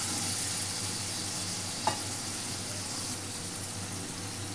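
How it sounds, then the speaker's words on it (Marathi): Sprouted moth beans and potato being stirred in a pan: a steady, even sizzle and hiss runs throughout, with one brief scrape of the utensil near the middle and no talking. "तर मटकी बटाटा असं हलवून घेऊ चांगलं"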